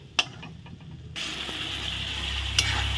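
Spice paste with green chilli frying in oil, a spoon clacking against the pan at the start, then a louder, steady sizzle as stirring continues, with a sharp scrape near the end.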